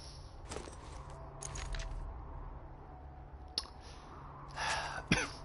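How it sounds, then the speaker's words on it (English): A person coughs during a Borderlands 2 gaming session, a few sharp close bursts spread across a quiet background, with the loudest, harshest cough near the end and no words spoken. "Ugh, I got a cough."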